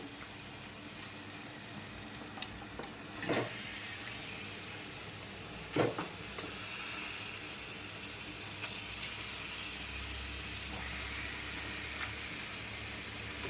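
Steady soft sizzle of washed chicken frying in a pan with cooked tomatoes for chicken curry, a continuous low crackle with a couple of brief knocks.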